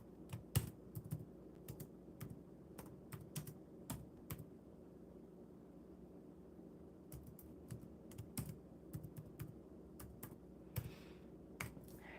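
Soft, quick keystrokes on a computer keyboard tap out a message in irregular bursts with short pauses, faint and close against a low background hum.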